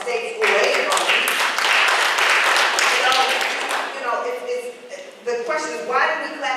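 An audience at a speaker-series talk breaks into dense, steady clapping that lasts several seconds, then fades as a voice resumes speaking over the last of it.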